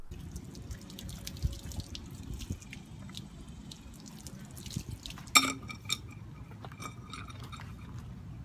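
Hot boiling water poured onto a dented car body, heard as faint wet drips and splashes over a low background rumble, with a brief sharper splash and clatter about two-thirds through.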